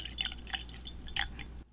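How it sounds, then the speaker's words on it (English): Light, non-peated Bunnahabhain Islay whisky trickles from a nearly empty bottle into a glass in a thin run of faint drips and glugs. The pour is quiet and close, then stops. "It is a sad sounding pour."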